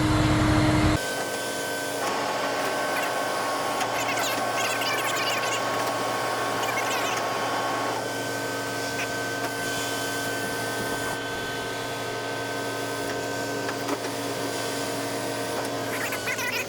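A Landoll trailer raising its deck, a steady mechanical hydraulic whine and hum with a higher tonal drone running continuously after a brief louder start, close and unbroken with no talk.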